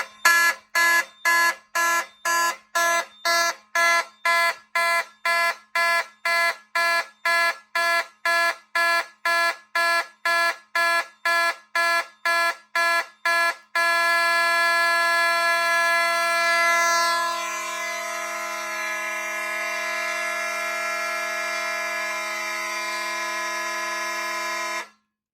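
A Simplex 2098 fire alarm horn signals agent release, blaring loud evenly pulsed bursts about twice a second, then switching to a steady continuous tone that drops slightly in level partway through.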